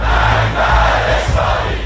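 A large crowd roars and chants slogans in Iran, a dense, loud, continuous mass of voices with no single speaker standing out.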